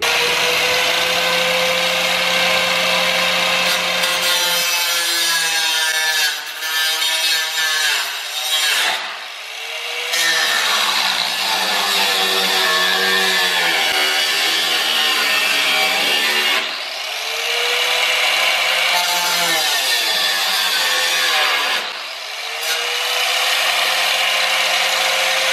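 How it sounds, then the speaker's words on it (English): Abrasive cutoff wheel slicing through the steel quarter panel of a Toyota Supra MK4, a loud continuous high-pitched grinding whine with pitch dips as the wheel bites and loads up, running steadily throughout with no talk. "the best way to do it is just take a cutoff wheel, then we'll take a grinding disc"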